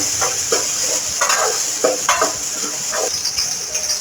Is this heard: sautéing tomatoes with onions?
yes